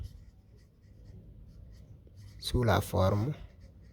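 Soft scratching of a pen writing on paper during a math exercise, faint and close, followed by a person talking briefly over it.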